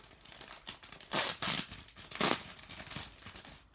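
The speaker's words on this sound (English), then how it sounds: "A little ASMR crinkling for you guys there." Packaging crinkles and rustles close up during the unboxing of a K-pop tour photobook, with two louder crackling bursts among softer handling sounds.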